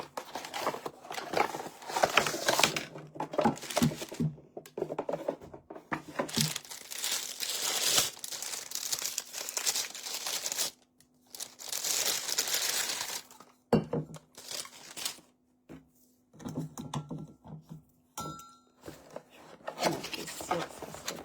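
Plastic packaging crinkling and rustling as a Tupperware product box is opened, with bursts of crackling handling noise separated by brief pauses, close and fairly loud, with occasional soft voice sounds.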